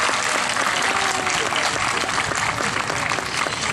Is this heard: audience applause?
yes